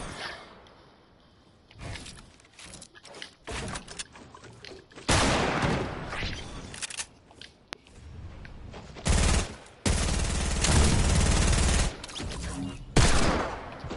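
Video game gunfire comes in repeated bursts and sustained automatic volleys, loud and close, broken by short quiet gaps.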